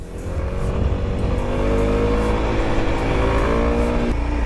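A Kawasaki Z250SL motorcycle engine revs loud and close, holding a steady high-pitched drone with no speech over it.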